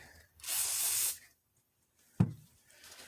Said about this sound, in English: I got a little bit of WD-40 in my towels. And I got a little bit of this on the rag.